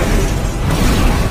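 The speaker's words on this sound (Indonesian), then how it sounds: "Sebuah bom tiba-tiba meledak tepat di tempat Nash dan kawan-kawan bersembunyi." A bomb blast in the Street Fighter film The Legend of Chun-Li, erupting where people are hiding: a loud, dense, sustained roar of blast noise and debris filling the whole moment without a break.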